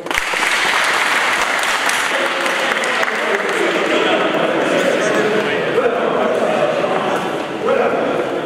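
Crowd applause at an opposition political meeting, dense sustained clapping from many hands close by, continuing for several seconds with some voices mixed in.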